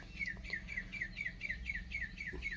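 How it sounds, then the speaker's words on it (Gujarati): Faint, quick chirping calls repeat in an even rhythm as birds take off from a banyan tree in a village, over a low steady background rumble. "આ પક્ષી તો જો વરવાંગડા નકરા ઉડી પડ્યા વડલા ઉપરથી"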